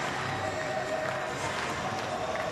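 A large baseball stadium crowd of over twenty thousand cheers at a Pirates home game against Milwaukee, a steady, dense roar filling the air without a break, with a commentator's voice audible faintly underneath.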